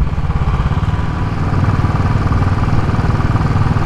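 A Royal Enfield Classic 500 single-cylinder motorcycle fitted with a booster plug pulls at low revs in fourth gear around 30 mph, a steady, loud, close thumping engine drone with no talk over it.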